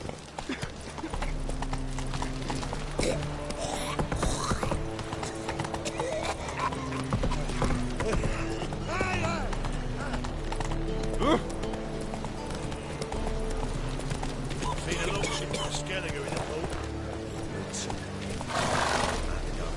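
Roach, a horse in The Witcher 3, gallops with steady, rhythmic hoofbeats that continue through the whole stretch, with occasional whinnies over a backdrop of game music and voices.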